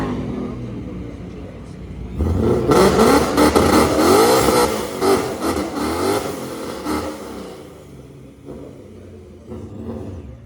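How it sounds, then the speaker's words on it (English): A supercharged stick-shift car launches down a drag strip, its engine roaring loud and close as it climbs through rising revs, then fading as it pulls away, leaving a distant drone. "ESS supercharged stick shift car."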